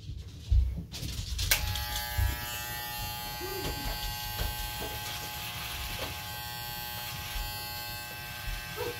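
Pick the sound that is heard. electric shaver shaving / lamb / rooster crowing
electric shaver shaving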